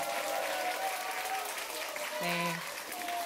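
Loud, sustained applause from a concert audience after a geomungo player is introduced, dense clapping filling the whole stretch, with a voice briefly audible over it.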